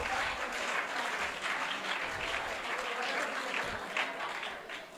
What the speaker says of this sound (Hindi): आप सभी एक बार वीर ताली से स्वागत करेंगे ब्रह्मचारियों का